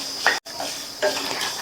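Thick flattened rice (aval) is dry-roasted in a kadai over a medium flame, with a spoon scraping and stirring. Two brief, soft scrapes and light rattles stand out over a quiet background hiss.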